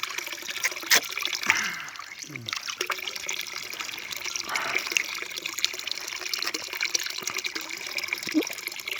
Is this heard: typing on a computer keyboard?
no